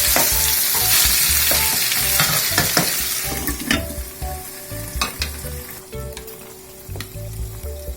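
Pieces of pork sear loudly in a pan for a tomato-based entomatado, a dense continuous sizzle broken by repeated scraping and stirring strokes that ease off slightly toward the end, no talking.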